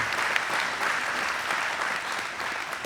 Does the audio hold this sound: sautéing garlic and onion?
no